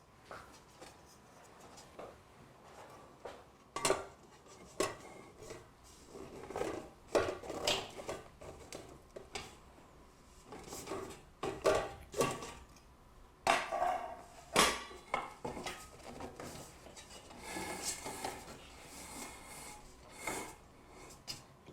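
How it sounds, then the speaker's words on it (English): Lid being fitted back onto a Megahome water distiller: a series of close, irregular clicks, scrapes and light knocks of plastic and metal parts being handled and seated. "And then you replace the lid."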